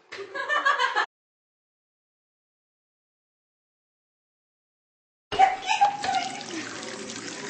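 Water splashes and gushes in two short bursts as it is poured over glasses to cover them, close and loud, with a long silent gap between the pours and a lighter trickle trailing the second.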